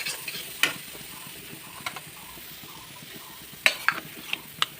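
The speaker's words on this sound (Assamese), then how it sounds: "অকণমান লৰাই দিছোঁ, নহ'লে লাগি যাব পাৰে যে।" A spoon scrapes and clinks against a pan as cumin powder is stirred into a jackfruit curry, with a soft sizzle underneath and a few sharp metallic knocks standing out.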